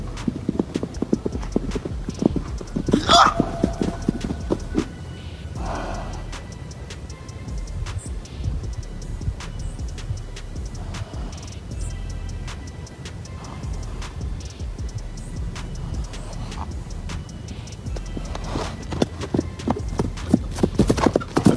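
Horse hooves clip-clop in a quick, steady rhythm on a hard surface, close by, with occasional louder knocks and faint background voices.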